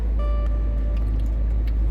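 A car being driven on the way to a November deer hunt gives a steady, close low rumble from inside the cabin, with a faint tonal hum above it and no voices.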